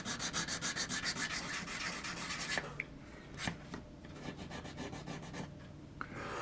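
Rough scrubbing on a groove in a model ship part, rapid rhythmic rubbing strokes for the first few seconds, then quieter, scattered scraping with small ticks, close and alone with no talking.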